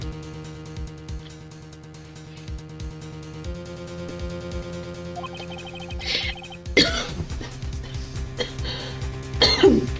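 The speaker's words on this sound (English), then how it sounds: "Oh, I got a coughing fit for a sec." A brief coughing fit from one person, several rough coughs and throat clearing in the latter half over steady Phoenix Wright: Ace Attorney game background music.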